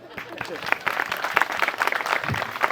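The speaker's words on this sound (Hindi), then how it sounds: "तो ऐसे ताली बजा दो थोड़ा सा।" Audience clapping along at a devotional lecture, scattered handclaps building into steady applause mixed with voices and room chatter.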